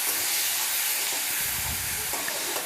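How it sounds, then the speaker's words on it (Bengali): Chopped onion and green chillies hit hot oil and fry with a loud, continuous hissing sizzle, close and unbroken throughout, with faint low bubbling underneath. "তো দেখতে পাচ্ছেন আমি তেলের মধ্যে লঙ্কা আর পেঁয়াজটা দিয়ে দিলাম, ভাজা ভাজা করে নেব।"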